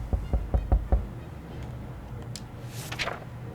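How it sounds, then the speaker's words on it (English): Four quick knocks tap at a door at the start in the video game 60 Seconds! Reatomized on Xbox, sharp and fairly close, followed by quieter scratchy noises and a faint rising whine. "Uh-oh, a tapping noise."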